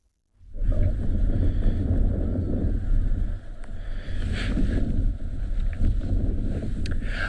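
Strong, steady wind on a wet day at a South African private game reserve buffets the microphone, a low roaring rumble that barely lets up, with a brief dip midway and faint higher gusts on top.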